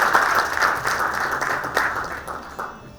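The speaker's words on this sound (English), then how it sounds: "Round of applause. It should be high" Hall applause during a felicitation at a committee launch event, a broad sustained clapping from a large audience that swells, then gradually fades toward the end.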